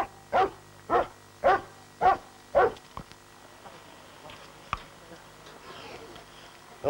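Explosives detection dog barking in a parking garage after finding a booby-trapped car: five loud, evenly spaced barks close by, followed by quiet room noise and a single faint knock.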